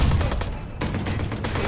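Rapid automatic gunfire from a machine gun in the Watch Dogs video game, loud continuous bursts with a brief pause near the middle.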